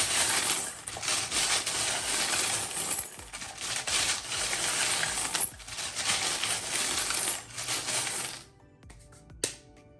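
Plain gold charms tumble and rattle inside a box, a dense, continuous metallic jingling clatter that pulses as the box is shaken, running steadily for about eight seconds before stopping abruptly, with a last brief shake near the end.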